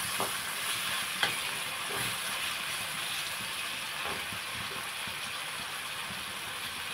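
Vegetables sizzling steadily in a frying pan for roti pacchadi, with occasional scraping and clinking as they are stirred; continuous close frying hiss without talk.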